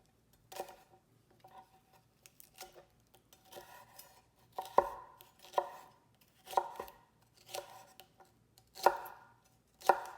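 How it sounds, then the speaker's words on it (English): A knife chops a bell pepper on a cutting board while gazpacho is being prepared, giving crisp, separate cuts in an uneven rhythm, close and fairly quiet against a silent kitchen. "I prefer to do it by just cutting both ends off and then slowly opening it up and get the middle out."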